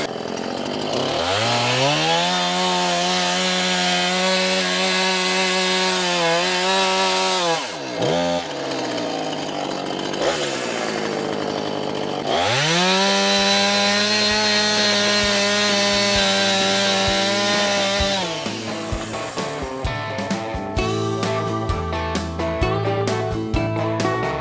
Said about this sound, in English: we got a top of the line chainsaw